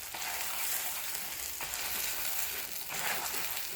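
Egg chapati sizzles in oil on a pan, a steady crackling fry with soft bursts of spitting, close and fairly quiet.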